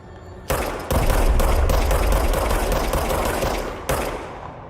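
Sustained automatic gunfire in the video game Control, a loud dense rattle of rapid shots that starts after a brief single report and continues nearly unbroken for several seconds, close and dominant.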